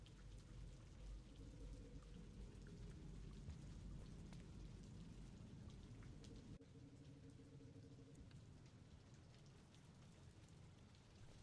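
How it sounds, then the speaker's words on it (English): Rain falls in the video game Rain World, a steady soft hiss of dense raindrops that continues throughout, faint and even, with no talking. "it's just kind of raining just because it feels like it"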